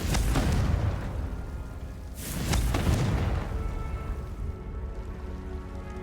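Two booming fiery blasts of the Confringo spell in Hogwarts Legacy gameplay, each a loud burst with a rumbling, crackling decay, the second louder, followed by a fading hiss.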